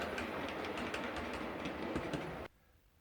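A model railway Class 501 electric train runs uphill, its steady rumble with rhythmic wheel clicks continuing closely for a few seconds before cutting off abruptly to near silence.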